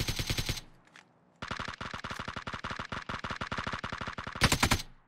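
M4 rifle gunfire in PUBG: close, loud automatic bursts of rapid shots, a short burst, a brief pause, then a long even rattle of fire ending in another burst.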